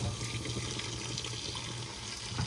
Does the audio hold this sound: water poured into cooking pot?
yes